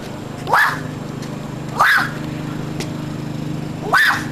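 A voice imitates a dog barking three times, short yips spaced apart, over a low steady background hum.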